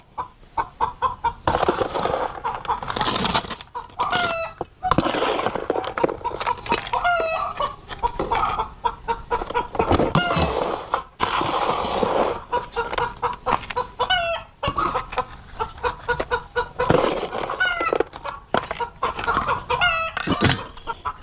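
Chickens cluck and squawk repeatedly nearby, a busy, noisy flock with occasional louder calls throughout.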